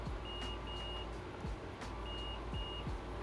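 A multimeter beeping on continuity as probes check a laptop motherboard for shorts, giving four short steady tones in two pairs over a faint constant background hum.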